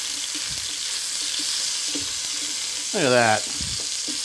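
Ground beef stir-fries in a wok while being broken up with a whisk, a constant loud sizzle with light scraping taps, and someone briefly speaks over it.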